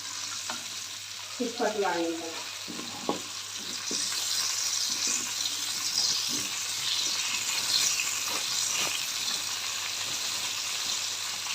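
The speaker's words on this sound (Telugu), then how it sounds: "బాగా బాగా వేయించుకున్నాం" Okra masala with cumin frying in a pan makes a steady, moderately loud sizzle with occasional soft clicks. A brief voice sounds at the start before the hiss takes over.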